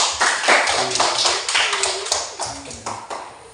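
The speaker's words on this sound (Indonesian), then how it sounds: "Tepuk tangan untuk kita semua." Students and teacher in a classroom clap together throughout, a lively, uneven patter of many hands at moderate volume, with faint voices underneath.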